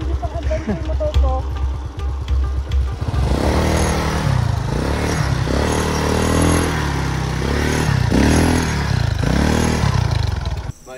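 A motorcycle engine runs steadily at close range with revving surges and rough clatter as the bike struggles on a rural path, with voices talking over it.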